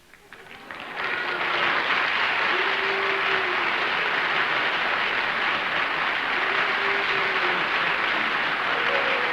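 A studio audience at a television panel game show booing, a broad loud crowd roar that swells in within a second and holds steady for the rest.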